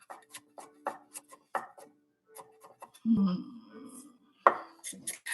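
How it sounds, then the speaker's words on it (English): Taro being chopped with a knife on a board for spring rolls, a quick run of sharp irregular knocks with brief scraping and a clatter of cookware, close and fairly quiet, no talk. "I'm not going to bore you guys with this chopping"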